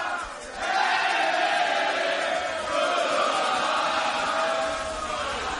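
A rowdy live crowd at a Cinco de Mayo party, singing and yelling in a loud, continuous roar of many voices with whoops and shouts, sounding like a packed, lively room.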